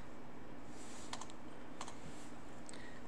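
Computer keyboard keys tapped in a few quick clusters of clicks at a desk, fairly faint over a steady background hum, with no voices.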